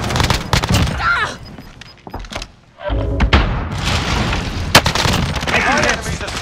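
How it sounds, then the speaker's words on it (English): Mortar explosions and bursts of gunfire in the Warzone video game, sharp booms and rattling shots crowding together loud and close, with a brief lull partway through. "Igniting mortar."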